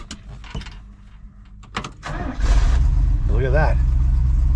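A 1968 Oldsmobile 442 V8 with a four-speed manual and a worn exhaust cranks with a few clicks, fires up and settles into a deep, loud idle while someone speaks briefly over it.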